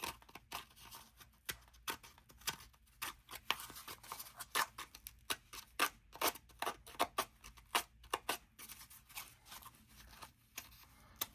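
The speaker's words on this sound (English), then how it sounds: "Probably shouldn't be using my fussy cutting scissors for this," Small fussy-cutting scissors snip through a paper snippet roll at a crafting desk, giving a quick series of close, crisp cuts in an uneven rhythm with short pauses and no voices.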